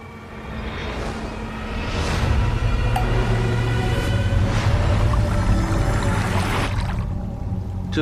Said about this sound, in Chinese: 水流湍急，应该是地下暗河。